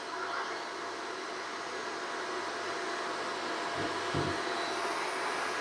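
Two heat guns powered through a 24V inverter system roar in a steady, loud blowing hiss, with a couple of brief low knocks partway through and no speech.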